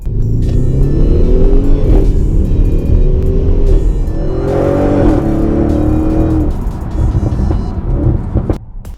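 An Audi RS6 Avant in sport mode: a loud, close engine rumbles and rises through several throttle blips, the pitch climbing and falling, with a rough exhaust growl running for the full length of the sound.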